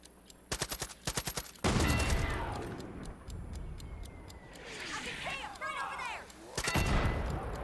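Gunfire in the Far Cry 5 video game: rapid bursts of automatic shots in quick clusters, loud and close, with a heavy blast and rumbling aftermath between them, and a voice speaking.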